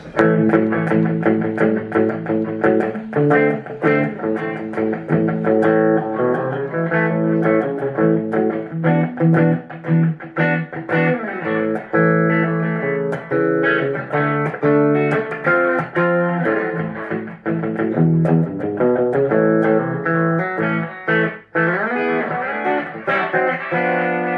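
A Hofner Contemporary Series Club electric guitar plays a brisk, bright passage of strummed chords and picked notes with a clangy 60s tone, loud and steady with no talking.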